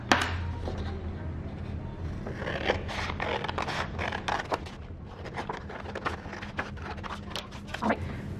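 Scissors cutting out a 9 by 4 inch paper square, heard as repeated close crisp snips and rustling scrapes of paper in a steady irregular rhythm over low background hum.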